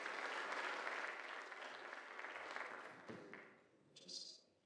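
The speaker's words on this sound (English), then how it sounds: "give a round of applause to the amazing individuals and organizations that are handing out scholarships tonight" Audience applause at a high school class night scholarship ceremony, a broad wash of clapping from a crowd that gradually thins and fades, with a brief higher chirp near the end.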